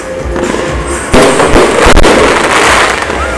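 Chinese fireworks at a holiday display in Ilovlya crackle and boom continuously for over half an hour, loud and dense, with sharp bursts and a rolling rumble filling the air.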